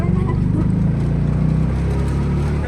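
Auto rickshaw engine: a steady, loud low-pitched putter that carries on throughout, with faint street noise from a road trip to a village palanquin procession and weekly market.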